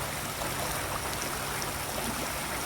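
Flowing water at the Smith Creek crossing, a steady close rushing and trickling stream noise with no talk.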